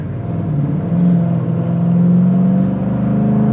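A 1972 Chevy Camaro SS 396 with a numbers-matching big-block V8, warming up on a cold day and revving up and holding a loud, steady engine drone close by.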